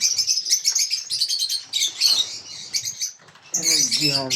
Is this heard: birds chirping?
yes